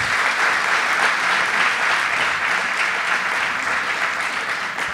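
Audience applause at a Hindustani classical violin concert, a dense, steady wash of many hands clapping, loud and close, holding evenly for the whole stretch with no talk over it.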